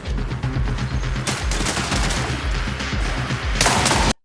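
Rapid gunfire from a weapon in the shooter video game Marathon crackles in dense, loud bursts throughout, with sharper bright cracks near the middle and end before cutting off abruptly.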